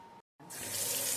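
Tap water runs into a kitchen sink, starting after a brief silence and swelling into a steady, close hiss and splash.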